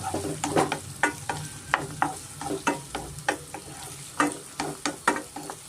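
Brinjal pieces frying in oil for vangibath, with a steady sizzle broken by repeated sharp scrapes and clacks of stirring at an irregular beat, close up and with no voices.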